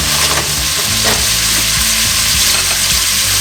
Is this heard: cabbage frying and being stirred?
yes